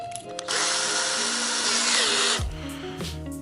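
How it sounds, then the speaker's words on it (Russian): A power drill bores through a wooden board, a loud steady whine running about two seconds before the motor winds down and stops, with a brief restart near the end. "Ну, где-то вот в этом районе просверлим."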